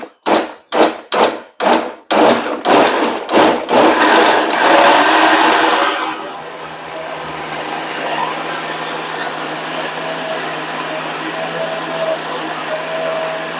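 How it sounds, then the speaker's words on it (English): Blender blending a homemade brown sauce mixture: several short pulsing bursts at first, then a loud continuous whirring motor run that settles into a steady, lower hum. "it's going to take probably 2 shots at blending this"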